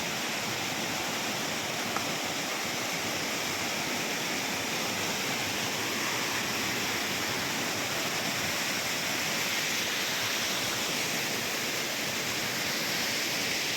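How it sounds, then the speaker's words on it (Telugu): A village lake spillway waterfall rushing in a steady, loud, broadband roar that continues unbroken throughout, with no voices. "మన ఊర్లో ఉన్న వాటర్ ఫాల్ ఎవరు చూడదు"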